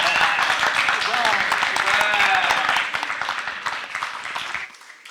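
An audience at a biodiversity summit panel session claps in a dense, sustained round that stays loud for about three seconds, then thins and fades near the end.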